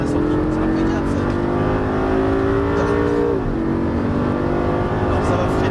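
A Lamborghini Gallardo accelerates on a racing circuit, its engine note climbing steadily and then dipping briefly at a gear change, loud and continuous as heard from on board, while a voice coaches over it.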